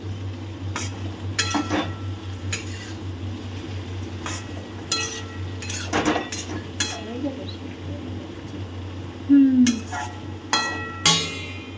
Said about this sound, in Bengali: 3 থেকে 4 মিনিট পর আমি একবার ঢাকা খুলে নেড়ে দিচ্ছি।